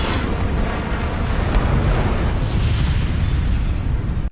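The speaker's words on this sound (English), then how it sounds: "Rachel's bomb explodes before Harvey's" A bomb blast from The Dark Knight (2008) roars as one continuous, loud, dense explosion that fills the whole moment with heavy rumble and crackle, then cuts off abruptly.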